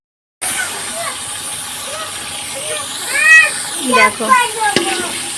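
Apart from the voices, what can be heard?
potatoes added to hot oil and stirred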